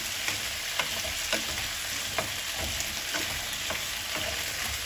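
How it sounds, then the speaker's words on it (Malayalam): Medium-sized potato pieces shallow-fry at medium heat, making a steady sizzle. Regular scraping stir strokes recur about every half second, close and fairly loud, with no voice. "ഒരു മീഡിയം സൈസിലുള്ള കഷ്ണങ്ങളായിട്ട് കുറച്ച് ഒരു മീഡിയം ഹീറ്റിൽ ഒന്ന് ഷാലോ ഫ്രൈ ചെയ്തെടുക്കാം"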